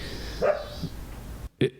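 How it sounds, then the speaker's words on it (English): A dog barks outside, two short sharp barks a second apart with faint background noise and a moment of silence between them. "I heard it, and then the dog barked."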